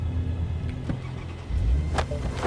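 A car in the video game Cyberpunk 2077 gives a steady low engine rumble that swells louder about halfway through, with a few brief whooshing sweeps on top.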